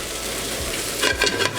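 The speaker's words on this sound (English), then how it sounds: "So I got that on full heat, so we're just gonna give it a stir. Break down those onions a bit." Onions frying in avocado oil over full heat, a steady close sizzle with a burst of scraping stir strokes near the end.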